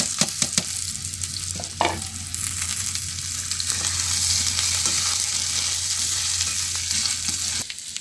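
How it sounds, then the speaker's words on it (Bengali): Vegetables stir-frying in a pan for a bitter vegetable curry, a constant close sizzle with spatula scrapes and taps over a low hum, cutting off sharply near the end. "এবার সবজিগুলো আমি সব দিয়ে দেবো।"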